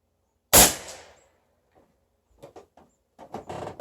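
A Beeman underlever PCP bullpup air rifle fires a single Crosman 14.3 grain pellet from a rest: one sharp, loud crack with a quick decay, followed by faint handling and rustling sounds.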